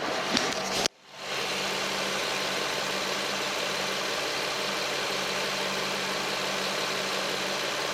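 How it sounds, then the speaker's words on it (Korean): A Renault Samsung SM7 2.3 LE sedan engine idles steadily with a smooth, low hum, briefly cut off near the start before the even drone resumes. "엔진 소음도 확인해 보도록 하겠습니다"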